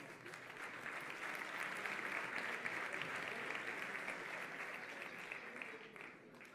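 An audience applauds at a sports gala in Béjar, a dense, even wash of clapping from a large crowd that holds steady for several seconds before tapering slightly at the end.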